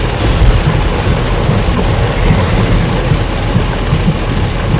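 Loud, sustained rolling thunder after a lightning strike near Pittsburgh, rumbling low and deep for several seconds, with a noisy wash that may include rain.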